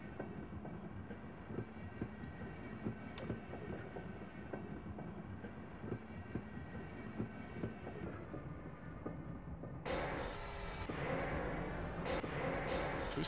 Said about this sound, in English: Yeah, Nat, get to the train.